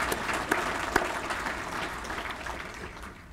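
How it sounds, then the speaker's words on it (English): An audience at an American Muslim Union event in Teaneck, New Jersey applauds the Bergen County Sheriff's Honor Guard with steady clapping, a few sharp individual claps standing out early before it gradually thins and fades. "A round of applause for the Bergen County Sheriff's Honor Guard, please."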